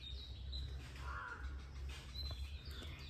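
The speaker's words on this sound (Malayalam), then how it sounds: "ഇവിടെ നിന്ന് ശരിക്കും കിളികളെ സൗണ്ട് കേൾക്കാം" Faint bird calls, including a crow's caw and light chirps, sound from a distance over a low, steady background hum, heard from a rooftop terrace.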